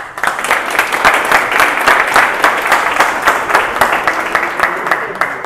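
A conference audience applauds as Przemek steps up to speak, many hands clapping in a loud, sustained round with distinct individual claps standing out throughout.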